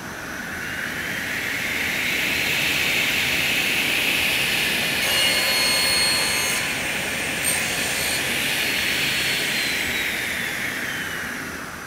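A MARTIN sliding table panel saw cuts a wood panel to 900 mm with a loud, steady high-pitched whine that swells as the blade runs through the cut, then slowly fades.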